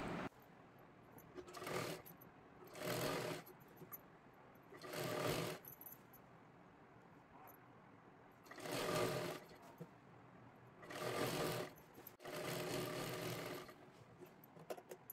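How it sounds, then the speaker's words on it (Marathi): A sewing machine stitches the folded hem around a small girl's lehenga in six separate bursts of steady whirring, each lasting about a second, with quiet pauses between them and no talking. "पूर्ण घेरला आपल्याला शिलाई करून घ्यायची आहे"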